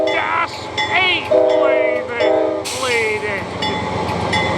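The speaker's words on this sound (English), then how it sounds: "our train 785 now leaving with a dash 8" A departing train 785 led by a Dash 8 diesel locomotive blasts its horn in several loud sustained chords over a rumbling engine. Other squealing tones run through the clip, and a voice is heard in the background.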